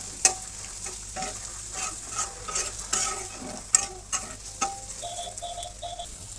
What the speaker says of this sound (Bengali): গাজর দিয়ে দিয়েছি, গাজর দিয়ে এখন তখন নাড়বো।